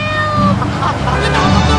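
A cat meows in a game commercial, a loud drawn-out wail with a wavering tone that stretches across nearly two seconds, set against other sound rather than heard alone.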